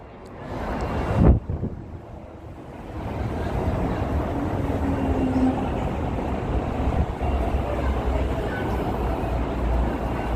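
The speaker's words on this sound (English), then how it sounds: "This train is 7 cars" A seven-car train rumbles at Racecourse Station platform, a low steady roar with wind buffeting the microphone and a sharp knock near the start.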